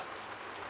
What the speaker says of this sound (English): There, it's raining.